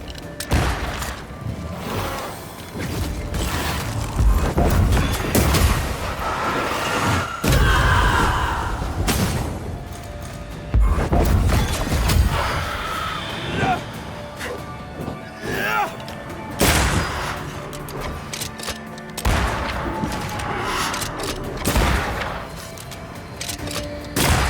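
Gunfire from a corpse enemy in Banishers: Ghost of New Eden comes as repeated heavy bursts and crashes, loud and irregular, mixed with other combat noise and some voice sounds.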